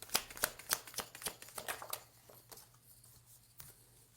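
Tarot cards shuffled by hand in a quiet room, a quick run of crisp riffling snaps over about two seconds, then a few fainter taps and slides.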